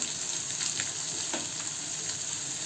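Onion, garlic and capsicum sauté in a pan with a continuous, close sizzle broken by brief scraping stirs of a spatula, with no speech throughout.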